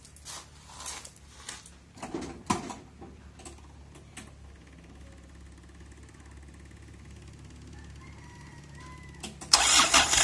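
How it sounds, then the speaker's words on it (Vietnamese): A Kubota diesel engine on an excavator cranks and fires up outdoors, with scattered knocks and clatter before the start and a loud rough burst at the end, the running engine a steady low hum beneath. "Rồi Phong, nổ máy lên thử"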